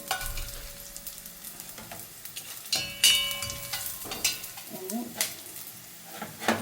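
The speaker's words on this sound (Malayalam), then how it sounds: "ഒരു സവാള അതൊന്ന് മുരിഞ്ഞ് വന്നിട്ട്, സവാള അധികം മുരിയേണ്ട ആവശ്യമില്ല" Onion sautés in a pan for egg pulao, a soft sizzle punctuated by irregular spoon scrapes and clatters, with brief murmurs of talk.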